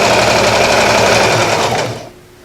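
A sewing machine stitches a garment in a steady, loud, close run of rapid needle strokes, then slows and stops near the end.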